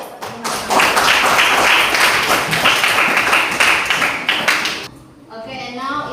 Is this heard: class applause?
yes